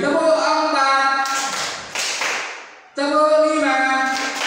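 A group in a classroom clapping game claps a quick burst of four, the claps bunched together between stretches of a leader's voice calling out counts.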